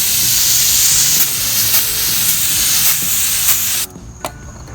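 Brake parts cleaner sprays from an aerosol can onto an oily concrete driveway in a loud, steady hiss that stops abruptly near the end, leaving quieter background.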